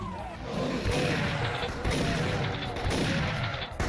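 Gunfire from a shotgun in the Doom Tribute Project video game, loud and continuous, with dense overlapping blasts and crashes in a hectic fight rather than clearly separated single shots.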